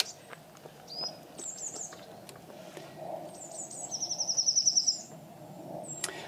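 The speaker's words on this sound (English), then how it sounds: "But just listen to them birds." Birds at a feeder beside a canal towpath, with scattered chirps and whistles from a few spots and then a rapid rising trill of clear pulsed notes, moderately near over quiet outdoor background.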